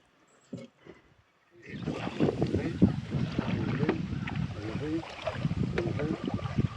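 Water sloshes and splashes steadily around a small rowed boat in Wayanad, a rough, continuous wash with faint wind noise and a few brief knocks at the start.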